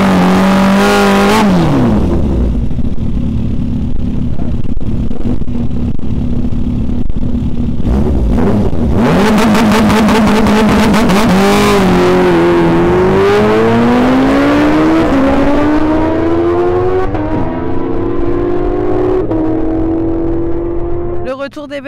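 A Kawasaki H2 and a Yamaha R1 motorcycle race on a circuit, their engines loud and close, revving hard with rising pitch sweeps and gear-change dips as they accelerate away, then fading slightly at the end.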